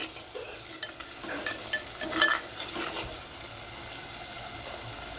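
Turmeric being stirred into egg curry in a clay pot, a steady scraping and stirring sound over a soft sizzle, moderately loud, with no voices.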